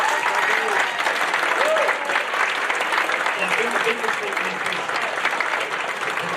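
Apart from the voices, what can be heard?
audience applause at football club awards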